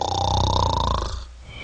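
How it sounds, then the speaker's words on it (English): A person snores with the soft palate vibrating, a loud, steady rattling tone that holds for about a second and then cuts off, leaving a softer, faint tail. "The noise produced by these vibrations is called snoring."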